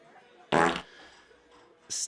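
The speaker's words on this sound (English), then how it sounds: "In the morning, morning farts." A fart, one loud, low, rasping burst lasting about a quarter second, followed after a quiet pause by a shorter, higher puff.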